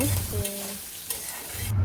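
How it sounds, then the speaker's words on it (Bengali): Dried fish (shutki) frying in hot oil during Bengali village cooking, with a loud, close sizzle and the scrape of stirring throughout a brief stretch, no talk. "তেলের মধ্যে দিয়ে দিলাম শুটকি ভাজা শেষ হলে পরে তারপরে নামিয়ে নিব"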